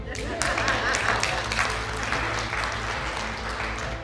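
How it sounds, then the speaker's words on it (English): Audience applause fills a large hall, a dense steady wash of many hands clapping that holds at an even level throughout, with no voices rising above it. "You guys can clap for that."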